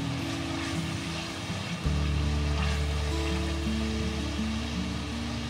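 Tomato and green chilli masala sizzles steadily in a pan for dhaba-style dal fry, a continuous close frying hiss that grows louder partway through, with a low hum underneath and no talking.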